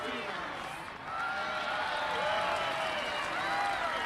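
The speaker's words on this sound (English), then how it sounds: "Or not the laugh track, the applause" Crowd applause in the video game Honkai Star Rail, a steady, fairly quiet wash of clapping and cheering with a brief dip near the start, carrying on without pause for several seconds.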